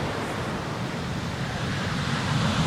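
Long ocean swell breaks as surf on an Indian Ocean beach, a steady, broad wash of noise with no distinct individual waves, heard loud and close.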